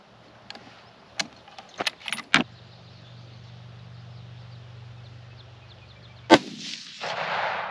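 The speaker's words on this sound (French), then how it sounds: "On s'en va tirer 2 autres. Ça pète." Rifle shots fired outdoors at a 250-yard target: two loud, sharp reports a few seconds apart, preceded by a few lighter clicks and knocks over a steady low hum.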